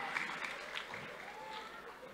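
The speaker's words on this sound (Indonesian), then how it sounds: "Boleh berikan tepuk tangan yang meriah." A hall audience applauds to welcome presidential candidate Anies Baswedan at a special session, with steady, fairly faint clapping beneath a voice that talks over it.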